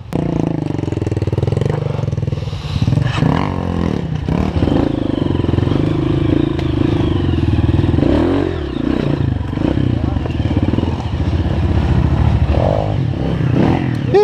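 A trail motorcycle engine revs and strains as the bike climbs a rocky step and the rider tries to lift the front wheel, loud and continuous with rattling and scraping, while people shout encouragement nearby.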